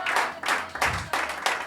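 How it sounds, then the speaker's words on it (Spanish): Church congregation applauding during a worship service, bursts of clapping pulsing in about five waves, moderately loud and close with a faint voice underneath. "Denle un aplauso más fuerte a Dios en esta hora."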